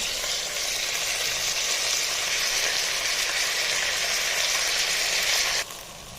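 Potato and ground raw masala frying in a pan for a hyacinth bean curry: a steady, dense close sizzle throughout that cuts off abruptly near the end, without speech.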